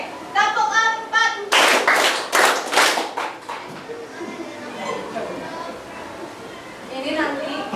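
Classroom of children clapping in a counted rhythm of four, a burst of loud claps in the first seconds followed by chatter and a teacher's voice.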